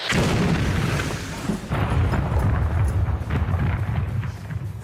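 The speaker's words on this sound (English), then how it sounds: "An explosion over here!" A deep, rumbling blast fills the clip, with sustained low roaring and crackling that swells again after a brief dip, loud and close.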